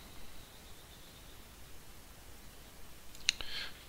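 Single crisp computer mouse click on a Windows restart option while the Shift key is held, one short isolated click near the end over a quiet hiss.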